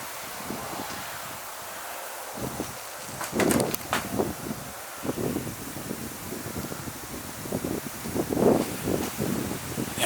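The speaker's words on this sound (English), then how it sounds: "Now there's a bit of a wind tunnel coming straight up that hallway." Wind rushes up the hallway of an old rural cottage, a steady broadband whoosh with gusty swells, faint rustles and occasional light knocks and creaks.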